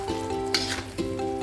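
Stir-fried water spinach with oyster sauce sizzles loudly in a pan as water is poured in, a bright crackling hiss with a couple of sharper splashy bursts, no voices.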